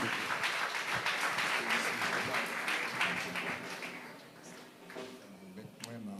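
A church congregation applauds the pastor at a French-language service, a dense, steady wash of many hands clapping that fades near the end as a voice begins.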